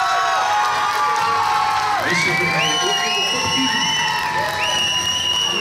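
A crowd at the Miss Fashion 2020 top-ten announcement cheers and whoops for a contestant, with high shrieks and shouts rising over a continuous roar while a presenter talks.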